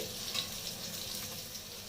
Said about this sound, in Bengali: তেলটার মধ্যে আমি কিছুটা কালো জিরে দিয়ে আর বেগুনগুলোকে ভেজে নিচ্ছি।